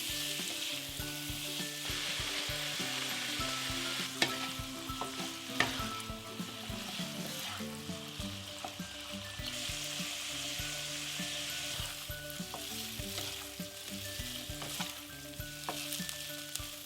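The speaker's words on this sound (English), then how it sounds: "Stir and cook it on a low flame for 5 to 7 minutes." Boiled chicken liver with salt frying on a low flame, a steady close sizzle with occasional sharp clicks and scrapes of stirring running throughout, no voices.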